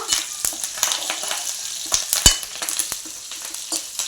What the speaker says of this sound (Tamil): கருவேப்பிலை கொஞ்சம் போட்டுட்டு வெங்காயம் வந்து நல்லா வதங்கணும்